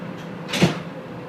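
Sliding doors on a Las Vegas Strip tram thump shut in one short, solid knock, heard up close against a steady low hum of the car.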